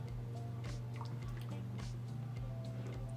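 Brandy orange cranberry sauce with zest boiling in a pot, a steady low bubbling hiss with soft irregular pops and drips, close and continuous with no talking.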